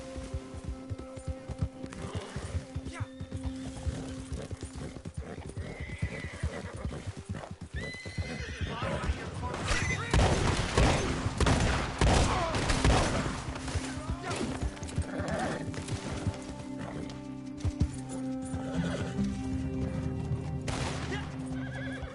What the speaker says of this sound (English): Get up on that horse, boy.